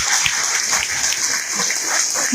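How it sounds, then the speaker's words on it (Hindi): Applause from an audience at a success summit award event in Banaras, a steady crackling wash of clapping that stays loud and continuous throughout. "एक बार जोरदार तालियां बजाइए"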